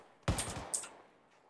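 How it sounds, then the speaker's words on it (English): A short burst of gunfire from inside a compound in the military shooter Task Force Athena, a sharp close crack followed by a second quick shot, then fading to quiet background. "Taking fire from inside the compound."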